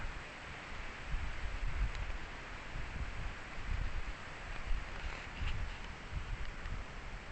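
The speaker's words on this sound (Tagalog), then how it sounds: "Kung mapapansin nyo, may mga hangin pa." Gusty wind rustles through leaves and plants in the aftermath of a typhoon, a continuous broadband hiss with soft swells, moderately faint and unbroken, with no voices.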